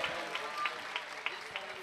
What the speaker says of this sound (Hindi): दोनों हाथों को उठाकर जोरदार तालियां यीशु के जलाल के लिए.